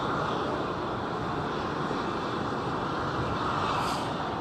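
A jet airplane departing Seattle's Boeing Field, a loud steady roar of engines that holds evenly throughout with no pauses.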